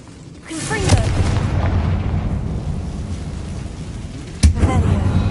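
A Confringo spell blast in the Hogwarts Legacy video game bursts with a loud low boom, followed by a sustained rumbling roar and a second sharp explosion near the end.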